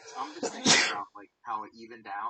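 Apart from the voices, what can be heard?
sneeze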